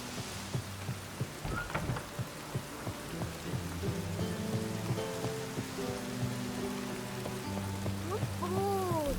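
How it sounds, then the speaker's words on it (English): Rain falls in The Witcher 3 video game, a soft steady patter under a low tonal music bed and scattered game sounds, fairly faint overall. "The rain will ruin it."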